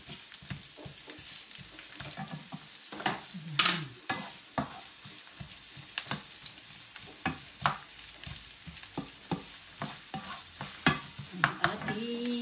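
Onions sauté in a pan on the stove for chicken curry, a continuous sizzle broken by regular spatula stirring strokes and scrapes, close and moderately loud.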